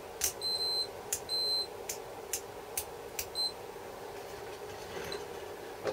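A Fluke 87V multimeter in continuity mode gives short high-pitched beeps, two longer tones followed by a few brief clicks and chirps, close and clear over a faint steady hum.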